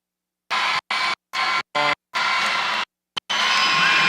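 A boys' high school basketball crowd, Roncalli versus Brebeuf Jesuit, roars and cheers in loud, choppy bursts broken by abrupt silent gaps. The cheering swells to a sustained wash at the end.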